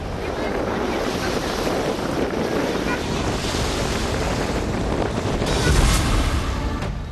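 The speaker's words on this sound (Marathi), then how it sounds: "भंडारदरा आणि निळवंडे धरणातून प्रवरा नदी पात्रामध्ये पाण्याचा विसर्ग सुरू करण्यात आलाय" Heavy rushing water from the Bhandardara and Nilwande dams released into the Pravara riverbed during monsoon rains, a steady broadband roar throughout with wind buffeting the microphone, swelling slightly near the end.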